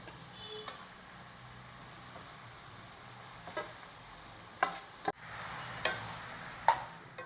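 Beetroot sautéing in ghee in a kadai for beetroot halwa gives a steady, soft sizzle, broken by a few sharp scrapes and clicks of stirring.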